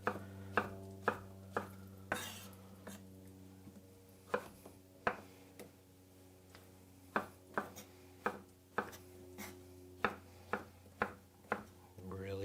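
A knife chops vegetables for ratatouille on a cutting board, with a steady series of crisp, close knocks in irregular bursts over a low constant kitchen hum.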